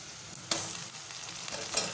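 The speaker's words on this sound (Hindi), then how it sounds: "अब इसमें मैं कीमा डाल के भूनूंगी।" Minced meat keema sizzling and frying in a pan with whole spices, a steady close hiss with a couple of brief louder stir bursts, no voices.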